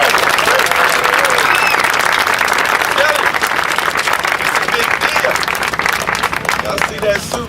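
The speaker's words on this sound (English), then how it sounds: "Let's give him a big round of applause." A big round of applause from an outdoor crowd greets Atlanta's mayor at the opening of the Eastside Gateway Trail, dense sustained clapping at full strength from start to finish.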